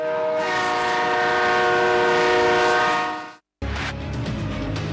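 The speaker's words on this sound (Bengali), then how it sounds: "লোকাল ট্রেন সব জায়গাতেই লাইফলাইনের মতো" A West Bengal local train sounds a loud, sustained horn blast for over three seconds. After a brief cut, the rushing roar of the train continues close by.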